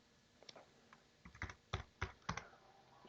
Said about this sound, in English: I'm going to type robot.